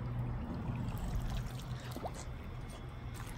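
Water pours steadily as a pool cleaning device is filled, giving a continuous close gushing and trickling sound without any talk.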